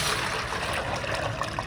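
Two liters of water pour steadily into a container, a continuous close splashing rush with no pauses for its short length.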